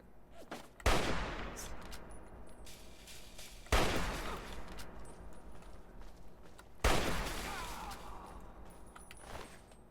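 Three booming hunting rifle shots in the video game Fallout 3, spaced about three seconds apart, each a sharp loud crack with a long rumbling tail, over a low background hum.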